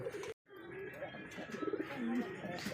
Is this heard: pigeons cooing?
yes